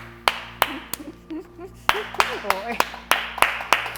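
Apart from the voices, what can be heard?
audience applause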